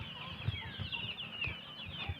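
Native desi chickens cluck and call repeatedly on a village farm, a steady run of close, moderately loud fowl sounds with no talking.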